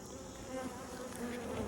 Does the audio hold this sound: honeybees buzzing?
yes